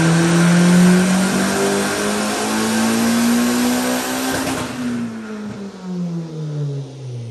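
A drag bike engine with its slipper clutch set screams on a dyno, holding a loud high-rpm pitch that slowly climbs, then cuts off abruptly and drops into a falling, sputtering wind-down.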